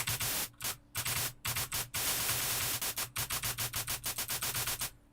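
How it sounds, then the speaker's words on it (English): A Vital software synthesizer patch fires rapid, gated bursts of noisy static, stuttering on and off like machine-gun fire, with irregular gaps early and then a fast, steady run of even pulses. "So if I do this, it sounds kind of like a machine gun."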